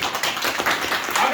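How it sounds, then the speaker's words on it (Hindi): A brief burst of audience clapping at a Hindi-language gathering, cheering for Microd, a quick patter of many hands lasting little more than a second. "एक ताली बनती है माइक्रोड के लिए।"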